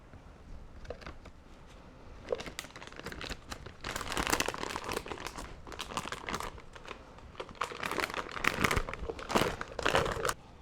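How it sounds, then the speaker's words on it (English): Pumpkin soap batter going into a plastic piping bag with a star tip, set in a cup, gives a close, busy run of plastic crinkling and rustling that swells and fades, with no talk. "We're just going to add this portion to a piping bag."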